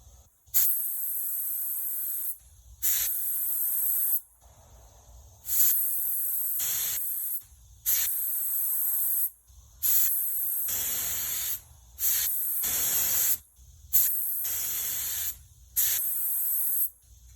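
An Iwata LPH-80 spray gun spraying paint hisses in eight regular bursts of about a second and a half each, separated by short silences as the trigger is released between passes, close and loud.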